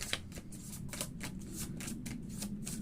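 Tarot cards being shuffled before a card reading, a soft steady riffling that keeps going in repeated quick strokes, faint and close, with no voice over it.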